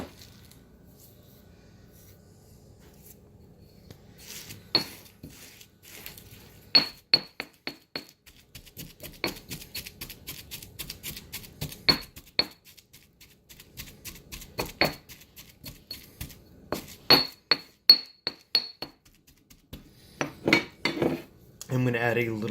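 A mortar and pestle in a home kitchen, used for a garlic and sundried tomato rub, gives a run of sharp, irregular clinks and knocks that grow busier toward the end, close and fairly quiet, with no talking.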